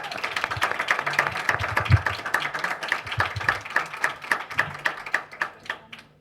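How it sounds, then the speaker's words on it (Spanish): An audience at a university literature colloquium award ceremony claps for a speaker, fairly sparse clapping from a smallish group with distinct individual hand claps, thinning into a few rhythmic claps at the end. "Un aplauso para Pietro, por favor."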